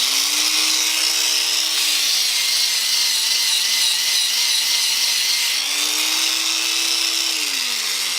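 A power sander runs continuously at a steady, loud high whine, its pitch dipping and rising slightly as load changes, close with no voices.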